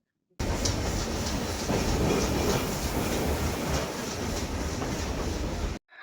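The Nilgiri toy train near Ooty rumbles steadily along the rails through thick forest with a continuous loud clatter and roar, close by, before cutting off abruptly.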